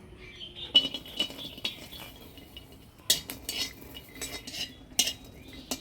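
Garlic, black cumin and green chilies dry-roasting in a clay pan, with scattered clinks and scraping rattles of a utensil stirring against the pan, fairly close and without talk.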